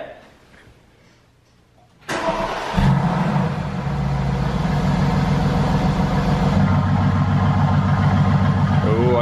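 A Mercedes-AMG GT fires up with a sharp burst after a quiet pause, then settles into a loud, steady, rumbling idle that continues to the end.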